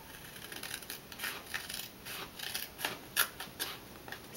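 Scissors snip through paper dividers in a quick run of short, crisp cuts, close and fairly quiet, with no voices.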